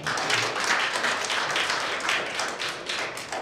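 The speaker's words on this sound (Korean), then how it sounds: "여러분 박수 한번 주셔야죠" Dense, steady applause from an audience at a convention fashion show fills the whole stretch without a break, with no voices over it.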